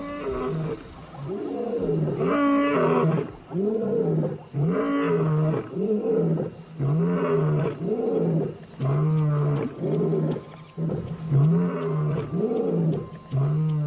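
A lion roars at dawn in the African wild, a long series of deep, loud, rhythmic roars and grunts repeating steadily and close, with no talk over them.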